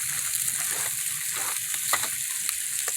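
Food cooking under aluminum foil over a fire gives off a steady, close sizzling hiss, with faint crackles and pops scattered throughout.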